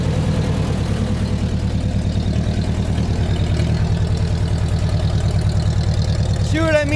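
A tractor engine runs steadily nearby with its PTO engaged and driving a flat belt pulley, a loud chugging rumble with rhythmic pulses, and a short rising whine near the end.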